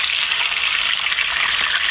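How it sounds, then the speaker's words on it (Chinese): Fish pan-frying in very hot oil gives a loud, steady, dense sizzle with crackling spatter that never lets up, close by and with no voices. "把鱼下锅油煎"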